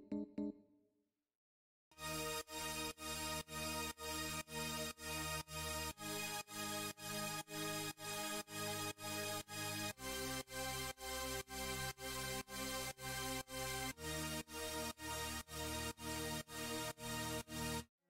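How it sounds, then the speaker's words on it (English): A wide synth pad from a Disney song remix made in FL Studio enters after a brief quiet lead-in, then plays as a rhythmic, steadily pulsing chord texture with shifting harmonies. "Then goes a simple wide pad to add harmonics."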